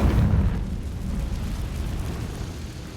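A Confringo blasting spell bursts in Hogwarts Legacy, a loud low boom at the start that settles into a rumbling, crackling tail lasting a few seconds.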